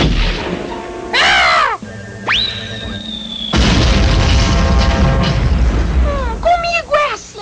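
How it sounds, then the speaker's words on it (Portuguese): Loud booming blasts like cannon fire in a Sonic cartoon, mixed with whooshes, rising whistles and chirpy cartoon effects, all heavily layered in a busy soundtrack. "Canhões de ovo bombas em posição."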